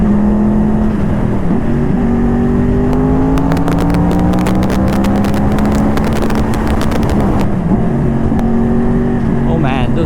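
A Yamaha R1 cross-plane motorcycle fitted with a Toce exhaust runs loud and close, its engine note rising through the gears, then dropping in a string of crackling downshift blips.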